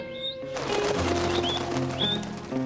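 Cartoon birds chirp and sing in a children's animated story, several short high calls repeating over a steady bed of background music with no talking.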